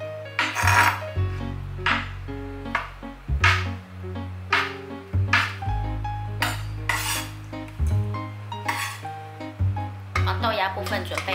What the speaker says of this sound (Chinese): 我把它切成片状